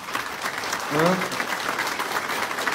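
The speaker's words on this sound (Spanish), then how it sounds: "un aplauso a Dios porque viene la Navidad" A church congregation applauds steadily throughout, a close, dense wash of clapping, with a brief voice rising over it partway through.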